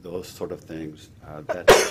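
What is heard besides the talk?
sneeze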